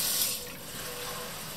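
A small splash of water goes into a cooking pot of poor man's risotto, a close, soft, steady trickling rush lasting under two seconds with no talk over it.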